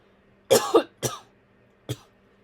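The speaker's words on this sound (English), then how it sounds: "My cough." Three dry coughs ring out close up, the first two in quick succession and a softer third after a short pause, with near silence around them.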